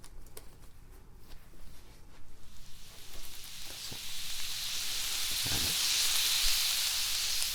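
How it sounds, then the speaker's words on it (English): Fluid fizzes inside the ear during an ear surgery ASMR treatment, a soft crackling hiss that swells into a dense, close sizzle over several seconds after a few faint clicks. "you will start to hear both of them fizz out as you do"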